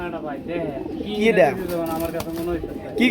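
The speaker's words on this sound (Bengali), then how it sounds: "মূলত এটা হচ্ছে আপনার রেসার কবুতর কিং সাইজ" Racer pigeons of king size cooing in a loft, soft throaty warbling coos repeating close by, with someone talking over them and light wing flutters.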